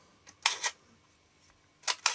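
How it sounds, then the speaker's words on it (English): A ROBOT Voll automat STAR II camera with a sticky shutter fires: a faint click, then a sharp double snap of the shutter, a pause, and another close, crisp pair of snaps near the end. "this camera also have a sticky shutter"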